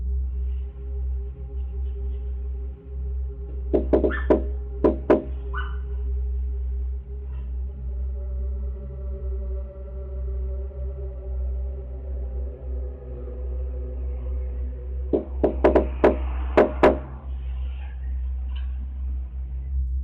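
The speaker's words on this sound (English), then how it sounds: "They continued knocking on the door," Masked armed robbers knock on a home's front door in two separate bursts of several sharp raps each, with a steady low hum running underneath throughout.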